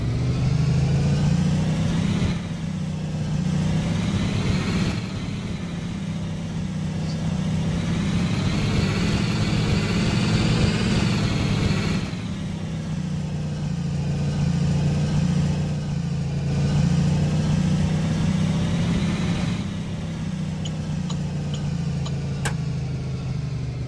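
A 2016 Blue Bird Vision school bus engine idling nearby, a loud, steady low diesel rumble with a ticking undertone and gentle rises and falls in revs over about twenty-four seconds.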